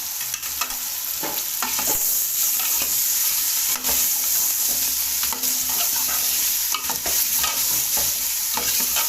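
Chicken with black pepper and spices frying hard in a pot for a mixed vegetable and chicken pulao, loud continuous sizzle broken by frequent stirring scrapes and clanks, close up with no voices.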